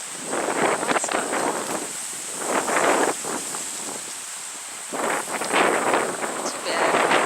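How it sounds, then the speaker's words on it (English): Gusts of wind buffet the microphone in bursts, roaring loudly then easing, over a steady background hiss. "Plenty of wind."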